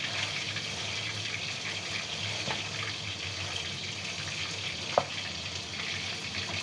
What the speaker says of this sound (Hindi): और इसको हम इसमें अच्छे से चलाएँगे